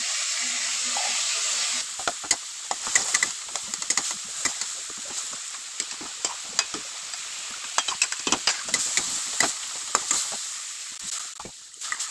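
Food fries in a pan for a muri ghonto dish, a steady sizzle for the first couple of seconds, then the sizzle continues under sharp scraping and clattering as it is stirred and tipped out.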